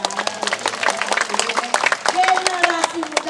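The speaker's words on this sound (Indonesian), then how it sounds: "Tepuk tangannya dong" Audience clapping at a Balinese Calonarang dance performance in Pejeng, Gianyar, a dense spatter of handclaps under a busy backdrop of crowd noise and voices, with people talking throughout.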